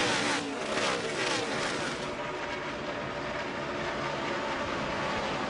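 NASCAR Sprint Cup stock cars racing in the Coca-Cola 600 at Charlotte Motor Speedway, a steady loud roar of engines at full throttle that holds throughout without a break.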